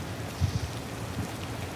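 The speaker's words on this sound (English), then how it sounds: "And there's the rain." Steady rain in the Disney Dreamlight Valley video game hisses evenly, with a few soft low thumps under it and no voices.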